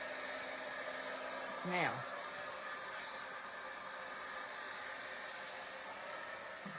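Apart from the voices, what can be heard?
heat gun blowing hot air for ink crafting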